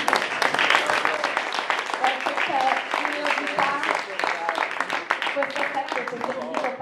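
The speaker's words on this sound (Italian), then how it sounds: "fatemi un applauso da soli" An audience at an evening presentation of an electoral list and programme claps in a sustained, dense patter under ongoing talk.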